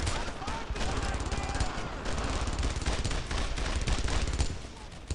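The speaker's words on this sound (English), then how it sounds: "We do have a machine gun there." Sustained machine gun fire in the WWII shooter Brothers in Arms: Earned in Blood, dense rapid bursts of gunfire rattling continuously at high volume, easing briefly near the end.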